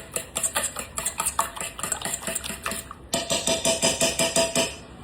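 A spoon stirs vegetable oil into zucchini bread batter in a bowl, giving fast, rhythmic clinking scrapes against the bowl, loud and close, with a brief pause midway before the stirring resumes.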